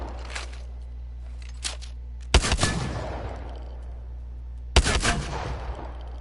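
Eva-8 shotgun fired in Apex Legends, two loud separate blasts a couple of seconds apart, each with a sharp attack and a rumbling tail, after a few faint clicks.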